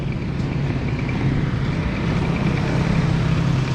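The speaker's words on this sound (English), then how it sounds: "You got the school traffic, you got the going to work traffic" Morning street traffic in the Philippines around school and work rush hour, a continuous low rumble of passing vehicles and engines, steady and fairly loud with no speech.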